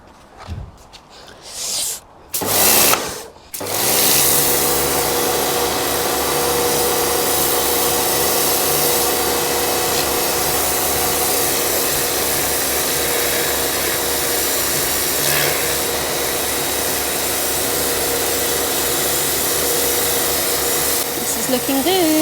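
A Karcher pressure washer blasts paving slabs outdoors, a steady loud motorised spray roar that runs continuously after a few brief rustles and bumps at the start.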